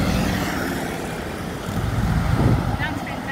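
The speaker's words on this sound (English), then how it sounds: "Look at all these vehicles." Vehicles in a presidential motorcade rolling past on a road, a steady broad rumble of engines and tyres that swells slightly as they go by, with people talking nearby.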